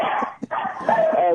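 Dogs bark and yip in short bursts, close and loud, mixed with voices talking over them.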